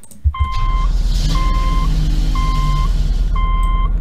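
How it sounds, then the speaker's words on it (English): Car engine starting up in the Roblox game Greenville, a 2006-style vehicle, followed by a steady idle hum with a repeating electronic chime sounding four times at even intervals, alone and fairly loud. "Here's the startup for the car."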